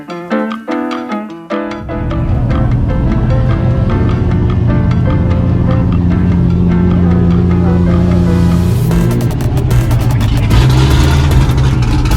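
At a Cars & Coffee car show, a lowrider's engine roars loud and sustained after a short lead-in of other sound, holding a steady rumble with rising revs toward the end.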